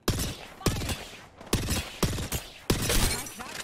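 Kraber sniper rifle firing in an online shooter game, several sharp loud cracks with ringing tails spaced unevenly, mixed with other gunfire and impact bursts in a busy firefight.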